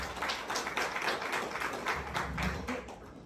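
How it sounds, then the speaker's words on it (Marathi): Audience applause at a motivational speech event, a modest round of quick, uneven clapping from a small crowd, fairly faint and sustained throughout. "यांच्यासाठी एकदा जोरदार टाळ्या"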